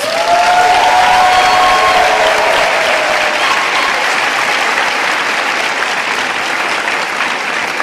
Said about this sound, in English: He deserves a bigger round of applause.